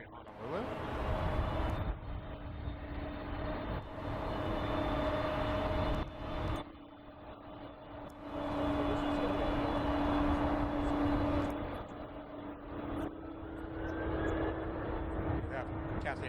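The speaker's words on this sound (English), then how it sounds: "Boeing 777-200 with United," A United Airlines Boeing 777-200 bound for Honolulu rumbles continuously at San Francisco airport, its engine roar steady at moderate loudness, while a voice talks over it in stretches.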